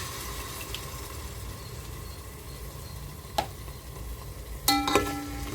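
Ginger and garlic fry with browned onions for coconut milk rice, giving a steady close sizzle, with a faint utensil tap midway and a couple of clinking spatula strokes near the end.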